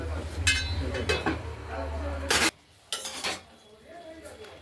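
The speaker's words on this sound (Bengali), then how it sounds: "আমরা কড়াইয়ের ঢাকনা খুলে বাঁধাকপিগুলোকে আরেকবার নেড়ে চেড়ে দিলাম।" A metal utensil scraping and stirring cabbage in a wok, uncovered after cooking with potatoes and peas: several rough scraping strokes, a sharp clatter of the lid, then quieter sizzling, with a voice speaking over it.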